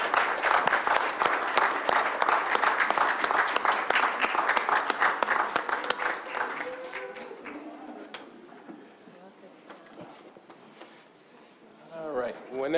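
Audience applause fills a board of education business meeting, loud and dense at first, then thinning and fading after about six seconds, with a voice speaking faintly toward the end.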